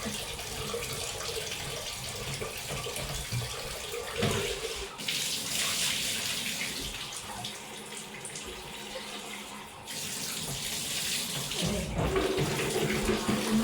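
Water pours steadily from a tap into a basin, a continuous rushing splash with a couple of brief changes in flow.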